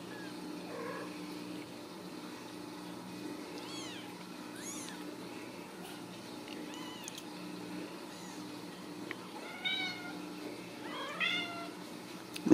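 Ragdoll kittens meow in a series of thin, rising cries, a few early on and a more insistent cluster near the end, over a steady low household hum. The meows are faint to moderate and heard close by.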